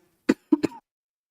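Short, close coughs: one sharp cough, a brief pause, then two quick coughs in a row, with silence around them.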